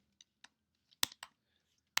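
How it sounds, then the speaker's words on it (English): Typing on a computer keyboard, a few sharp key clicks spaced irregularly, with a louder cluster of taps near the middle and a final strong click, close and isolated with no talk. "good typing, huh?"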